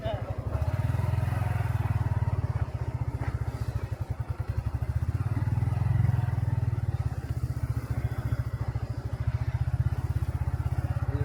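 A motorcycle on a bike tour of Nijhum Dwip, Noakhali, rides with a steady, close, throbbing engine rumble that holds throughout, rising slightly in the middle.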